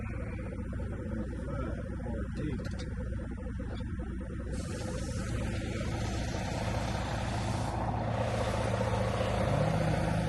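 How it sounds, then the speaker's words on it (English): An old Mack truck engine runs with a low, rough rumble, fairly distant and steady, growing slightly fuller toward the end with some hissing noise over it. "Mack truck."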